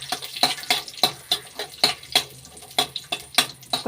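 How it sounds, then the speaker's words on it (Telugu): Cashews fry in melted ghee for semiya payasam, a soft sizzle broken by sharp, regular ticks of a spoon stirring against the pan, close by and with no talking. "నెయ్యి కొంచెం కరగాలండి. కరిగిన తర్వాత జీడిపప్పు వేసుకోవాలండి."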